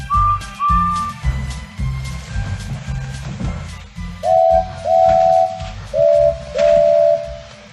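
Several short, shrill steam whistle toots sound in quick succession over a rhythmic chugging beat, the later ones lower and paired in a steady pattern.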